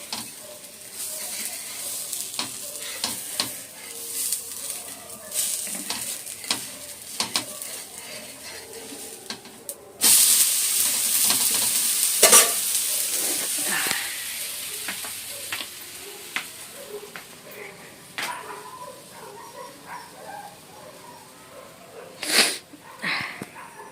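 Food frying in a pan makes a continuous sizzle with many crackles and pops for the whole stretch, growing louder and brighter about midway, then easing, with a couple of sharper bursts near the end.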